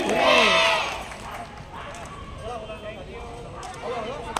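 A crowd at a residential society's joint Jayanti celebration in Badlapur raises a loud group cheer at the start, and the voices then fall away to a lower murmur of people.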